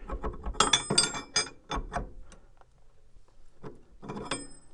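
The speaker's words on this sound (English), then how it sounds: "I'm gonna just back the nut off just a touch" Close metallic clinks and ratcheting clicks from a wrench backing off the nut on an Audi A4 B5 Quattro rear wheel bearing, come in short irregular bursts with quiet gaps between them.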